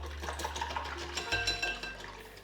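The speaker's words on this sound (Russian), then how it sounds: "Выливаю в заправку и сразу же хорошо размешиваю." A ladle of soup broth being stirred into a soup dressing, soft liquid swirling and light scraping in a bowl, close and quiet with no talk.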